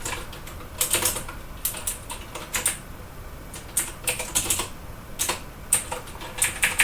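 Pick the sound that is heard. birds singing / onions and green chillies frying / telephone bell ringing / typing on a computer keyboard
typing on a computer keyboard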